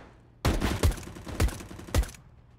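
USP pistol fire in the game CS:GO: four sharp, close shots spaced irregularly over about two seconds, with crackling noise between them and nothing after.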